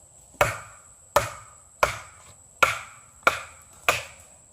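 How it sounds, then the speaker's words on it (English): Six sharp, evenly spaced chops of an Ontario SP 51 knife splitting wood for kindling, each a crisp close impact with a short woody ring, alone without talk. "So for all your kindling purposes and splitting wood and whatnot, this knife will serve"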